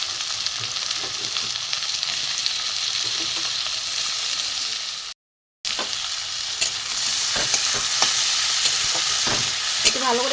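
Chopped tomato, green chili and ginger frying and being stirred in hot oil for a dhaba-style egg tadka, a steady sizzle with scraping spoon strokes, broken by a brief silent gap midway, then continuing with louder clinks.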